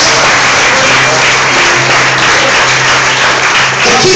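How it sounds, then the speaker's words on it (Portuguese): A church congregation applauds loudly and continuously, a dense wash of many hands clapping that stays strong and unbroken from start to finish, with faint voices mixed underneath. "Mais forte as palmas."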